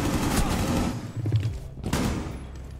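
Bursts of video game gunfire crackle in quick volleys with dull thumps, loud and busy across the whole moment, with no speech over them.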